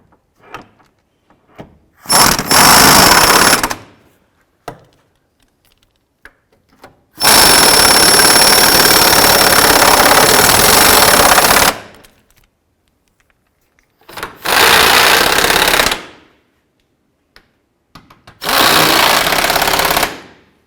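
A power tool tightens the forward control arm bolt on a 2005-10 Jeep Grand Cherokee in four loud, close hammering bursts, the longest about four seconds, separated by quiet pauses with light handling clicks.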